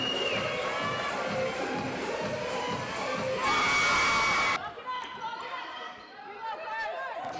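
A sold-out crowd at a women's professional basketball game, loud cheering and chatter filling the hall with rhythmic ball bounces, swelling to a roar before dropping to quieter crowd murmur.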